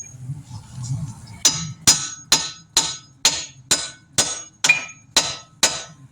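Ten sharp, evenly spaced metal hammer strikes ring out close and loud on the axle of a 2008 Dodge Caravan during an axle replacement, after a quieter stretch of low background noise.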